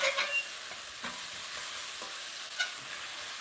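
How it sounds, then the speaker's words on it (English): Chopped onions sizzling in a pan for a coconut chicken curry, with a few soft scraping stirs spread across the steady hiss of frying, close and fairly quiet. "Okay, so give that a little stir."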